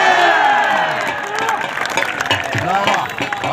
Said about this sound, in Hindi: तालियां यार